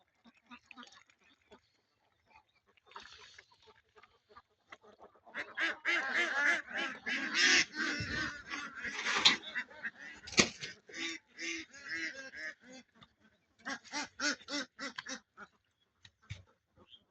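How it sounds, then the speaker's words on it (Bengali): Ducks beside a canal near paddy fields quack and honk in busy, overlapping bursts, loud through the middle of the clip and thinning to scattered calls, with a faint voice in the background. "এখন পানির মধ্যে থাকে হাঁস।"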